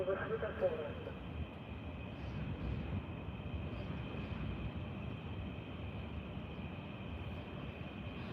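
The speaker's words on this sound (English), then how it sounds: "Do you guys hear that? It's the train tracks." A train on the Trans-Siberian Railroad rumbles steadily in the distance, a continuous low mechanical drone holding throughout, with a faint voice near the start.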